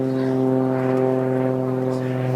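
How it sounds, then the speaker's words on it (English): A helicopter passes overhead at an outdoor eighth-grade moving-up ceremony, giving a loud, steady droning hum with a low throbbing tone that fills the whole moment. "We're waiting for the helicopter to pass."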